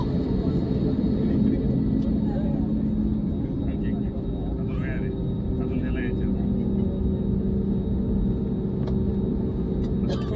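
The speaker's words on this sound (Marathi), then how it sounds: "आकाशा एअरचं विमान टेक ऑफ होईल" An Akasa Air airliner takes off, heard from nearby at an airport as a steady, heavy engine rumble and roar that holds throughout, with faint indistinct voices underneath.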